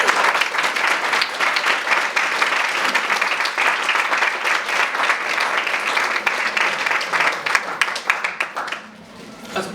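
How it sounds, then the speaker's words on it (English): A school audience gives sustained, dense applause for nearly ten seconds, loud and close, before it thins out abruptly at the end. "I think a big round of applause for Esther and Richard."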